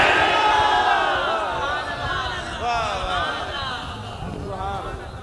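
A large crowd at a religious gathering chants slogans such as Naara-e-Takbeer, Risalat and Haidari, a loud, dense roar of many voices rising and falling together in long shouted calls that swell and fade, with no single voice standing apart.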